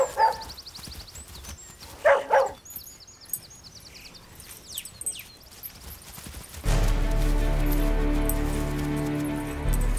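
A trained herding dog working a herd of cows yaps in a few sharp bursts early on, with birdsong chirping between, before a steady broadband outdoor noise takes over in the last few seconds.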